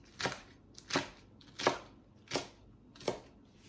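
A knife slices through food on a cutting board in five evenly spaced, crisp strokes, each a short sharp cut with quiet pauses between.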